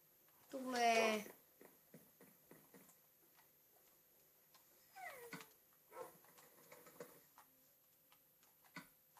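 A dog yelps and whimpers in a Minecraft-style video game, a brief high-pitched burst near the start followed by faint clicks and ticking game noises, with quiet voices in the background.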